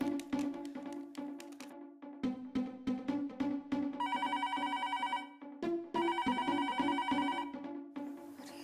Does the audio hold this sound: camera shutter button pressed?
no